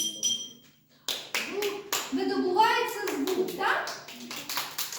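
Sharp taps on a glass jar ring out in a short run of bright strikes, close and distinct, during a children's music lesson, with a teacher and children talking around them.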